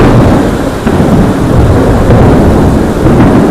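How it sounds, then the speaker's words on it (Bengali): Heavy rain pours down continuously in a thunderstorm with dense lightning, a loud, close, unbroken roar with low rumbling surges throughout and no voices. "বিশাল পরিমাণে বিদ্যুৎ চমকাচ্ছে।"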